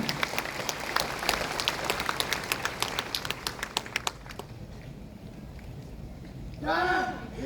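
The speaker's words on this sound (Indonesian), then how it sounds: "Mari kita berikan aplaus yang meriah" An audience at a university graduation and anniversary ceremony at Universitas Jayabaya applauds in a dense, steady burst of clapping that fades after about four seconds. Then a voice speaks over a sound system.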